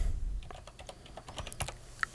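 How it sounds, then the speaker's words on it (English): Quick, uneven keystrokes on a computer keyboard, a dozen or so light clicks typed close by with a slightly louder tap near the end. "As we're typing ControlNet"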